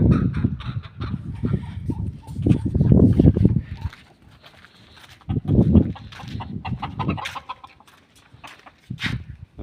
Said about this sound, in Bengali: বড় বড় একটা বিশাল মুরগি